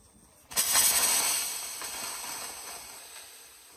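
Steam bursting under high pressure through a pan and tube after a tiny amount of water is added with the lid held on, a sudden loud hiss that starts sharply and then slowly fades.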